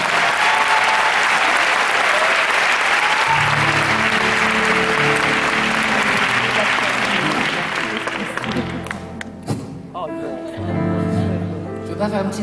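Loud, dense concert crowd applause fills the hall during a band introduction for a show in Toulouse, continuing steadily as instruments join in beneath it, then thinning to scattered clapping before a brief swell.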